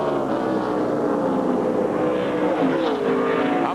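NASCAR stock cars roar around the track at the 2004 Subway 400, a dense, continuous engine drone from several cars running together, loud and steady with a slight pitch shift as they pass.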